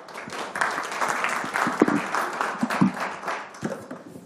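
An audience claps after a presentation, a moderate round of applause with scattered sharper claps standing out, heard at some distance in a hall.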